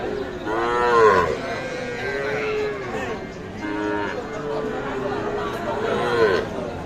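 Calves at a cattle market moo in several drawn-out calls that rise and fall, some overlapping, over a background of crowd chatter and bargaining voices.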